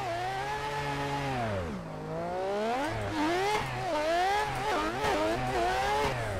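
A Mazda RX8 rotary engine revs hard in Assetto Corsa, its pitch climbing and dropping through repeated wailing sweeps as the car accelerates and shifts.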